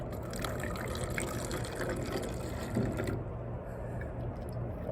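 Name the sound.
pouring apple cider vinegar into a bottle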